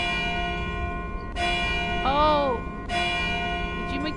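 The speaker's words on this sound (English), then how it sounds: "Did you make the bells ring?" Church bells ring in the Modern Tales: Age of Invention game, with sustained tolling strikes over a steady backdrop and one short exclamation from a voice.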